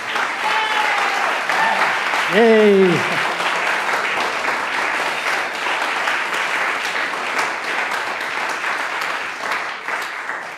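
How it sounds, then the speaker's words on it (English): Audience applause after a musical performance at a lecture, a dense, loud sustained clapping from a large crowd lasting about ten seconds, with a voice cheering briefly near the start. "let's take a few seconds more to applaud this again"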